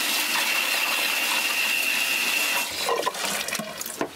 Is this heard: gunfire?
no